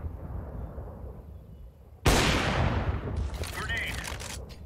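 A grenade blows up in Counter-Strike 2, a sudden loud close blast that cuts through a quiet low ambience, followed by lingering rumble and debris noise.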